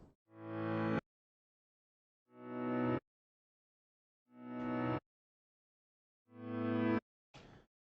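A piano recording played in reverse, four swelling chords that fade in from silence and cut off sharply, spaced evenly about two seconds apart, with a short fragment of another at the end; no talking.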